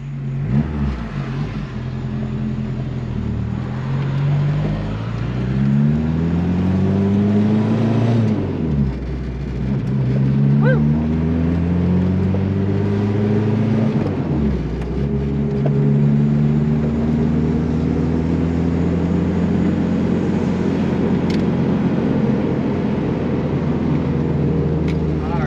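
Interior drone of a VW Rabbit turbo diesel pickup on a short drive, the engine rising through gears in repeated climbing pitches with shifts between them, loud and continuous, with someone speaking now and then.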